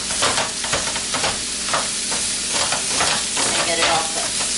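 Food sizzles loudly in a hot pan, seasoned with salt and Italian seasoning, while a utensil repeatedly stirs and breaks it up, steady frying hiss with rhythmic scraping, close and continuous.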